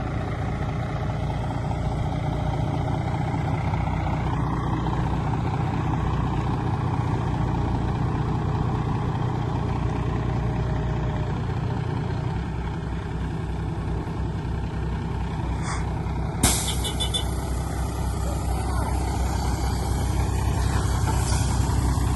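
A loaded truck pulls away from a village roadside, its steady diesel engine rumbling close and continuous, with a sharp hiss of air brakes releasing partway through; brief farewell chatter is heard.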